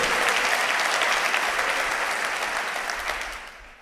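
A church congregation claps together for the Lord during a sermon, a loud, even wash of applause that slowly fades toward the end.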